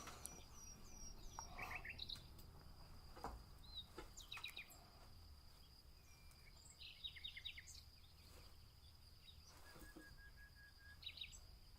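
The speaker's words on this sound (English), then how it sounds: "Yeah, I see you birds." Small birds chirp and tweet outdoors along a river during a canoe trip, scattered short calls at moderate distance over a steady bed of insect buzz and outdoor ambience.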